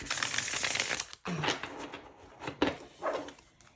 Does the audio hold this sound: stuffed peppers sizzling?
no